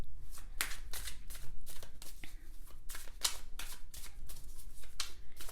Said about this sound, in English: I'm gonna shuffle this last deck for you guys.